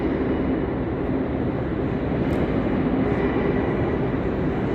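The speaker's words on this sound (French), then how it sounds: "je vais filmer l'arrivée du train que nous allons prendre" A train pulls into Plaza España intermodal station in Palma de Mallorca, giving a steady, loud, unbroken rumble that fills the platform for several seconds.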